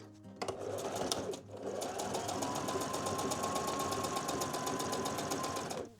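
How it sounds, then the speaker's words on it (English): A sewing machine runs steadily for about six seconds, stitching fabric pieces of a fabric dollhouse storybook together, with a rapid, even needle rhythm after a brief start and short pause. "and then I'll sew it together."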